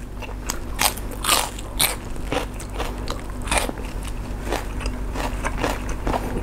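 Crunchy bites and chewing of grilled beef waterfall salad sound up close, with sharp crackling crunches at an irregular rhythm over a low background.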